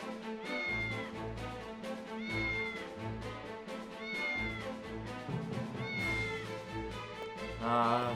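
A cat meows several times in the video game Triangle Strategy over a steady backdrop of game music, the meows repeating at intervals and sounding close and clear.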